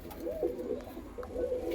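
Close, gentle cooing from a yellow-eyed white Punjabi pigeon comes in two or three warbling bursts with a short pause between them, and no talk over it.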